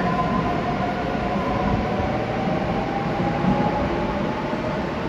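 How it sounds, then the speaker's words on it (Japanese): A train rolls past: a steady, fairly loud rumbling roar with a faint tonal whine, constant from start to finish, with no voices. "なんか未来の電車やな。"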